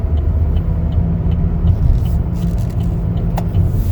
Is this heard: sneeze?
no